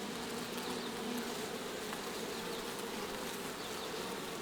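Honey bees swarm around an open hive in a growing apiary of nucs, their dense, steady buzzing filling the air close by, with no voices over it.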